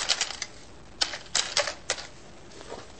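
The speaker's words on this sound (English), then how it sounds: "take these paper clips and gradually add them to our reaction vessel" Metal paper clips dropped a few at a time into a box, giving a scatter of light, sharp clicking taps, close and fairly quiet, in irregular bursts with short pauses between.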